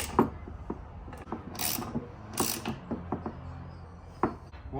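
Nuts being tightened onto the air oil separator of a Ford Focus XR5 / MK2 RS, giving a run of close mechanical clicks and short ratcheting bursts with a few brief metallic scrapes, and no talking.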